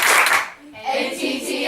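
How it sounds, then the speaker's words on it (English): A group of people at a high school pre-game team talk clapping in unison, sharp hand claps in quick bursts, fairly close and loud, with voices mixed in. "Y'all give me 4 claps."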